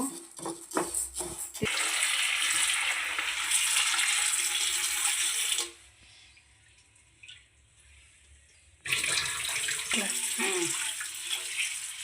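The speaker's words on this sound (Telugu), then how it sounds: "పప్పు శుభ్రంగా కడుక్కుందామండి." Running water pours steadily from a tap over lentils being washed, with brief handling clatter at the start, a quieter pause midway, then the flow returns.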